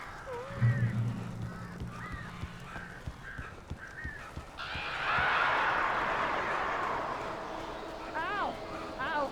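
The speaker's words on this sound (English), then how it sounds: "These birds are weird." Crows caw in the Alan Wake video game, several harsh calls repeating through a spooky scene amid thuds and footsteps, with a rising rushing noise midway and a tense game soundtrack underneath.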